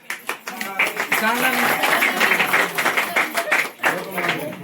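People clap at a home welcome gathering, a steady burst of close applause mixed with lively chatter and voices talking over it throughout.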